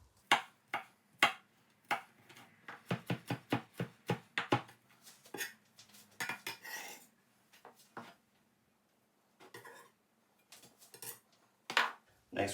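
A knife taps a cutting board dicing garlic and shallot in quick, close, regular chops, pausing briefly before a few more strikes.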